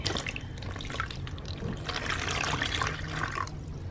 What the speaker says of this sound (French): je mets la moitié de l'eau qui était recommandée